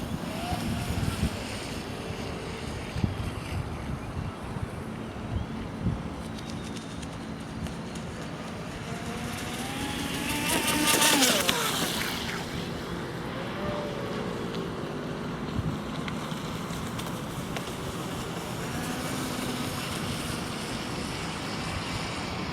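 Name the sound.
Graupner Electro-Vee radio controlled race boat running on lake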